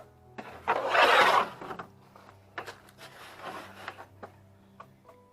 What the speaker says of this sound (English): Sand that down flat, filler, that'll be fine.